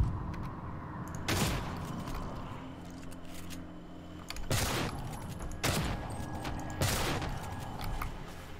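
Gunfire from the player's weapon in the sci-fi shooter Prey: four loud, sharp blasts spaced irregularly over a steady ambient game background, with no one talking.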